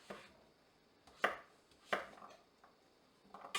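Knife chopping vegetables on a board for roasting, with three or four distinct crisp chops spaced about a second apart, close and fairly quiet.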